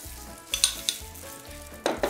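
Salad being tossed with sauce for a Vietnamese dish: a brief burst of a few wet, clattering mixing strokes up close, with no voices.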